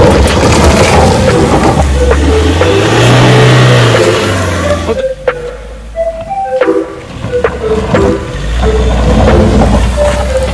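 Off-road SUV, a Mahindra Scorpio or Thar, revving hard while crossing an obstacle: loud rising engine roar that swells and falls, then rough uneven bursts, knocks and clunks before the engine builds again; close and loud, no talk.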